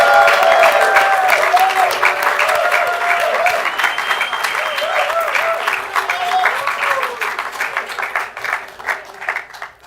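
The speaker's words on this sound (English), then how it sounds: "I'd like to applaud George" An audience at a Global Jazz master's commencement applauds for George Garzone with loud, sustained clapping that gradually thins out, while a voice speaks over it.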